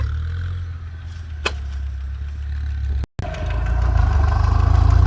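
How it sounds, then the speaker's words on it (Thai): Two walk-behind tractors run in a field, a low steady engine drone with clattering, a brief sharp click partway through and a short dropout before the engine noise swells louder toward the end. "เอารถไถมาสองคันเลย"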